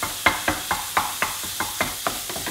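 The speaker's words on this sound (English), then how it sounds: "Keep on mixing your vegetables there." Vegetables stirred in a frying pan for spaghetti bolognese, with regular scraping strokes roughly every quarter second over a soft sizzle, close and clear with no talking.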